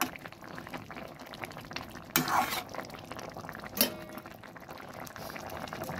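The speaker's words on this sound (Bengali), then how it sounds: "হালকা নেড়ে দিচ্ছি।" Tengra fish curry with eggplant and potato is stirred in a pan; two short scraping strokes of the spoon rise over a quiet, low bubbling simmer.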